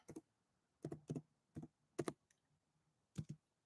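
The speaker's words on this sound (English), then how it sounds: "I'm just typing in on YouTube the link for anybody that wants to get in." Keys tapped on a computer keyboard in short irregular bursts of a few clicks each, close and fairly soft, with quiet pauses between and no talking.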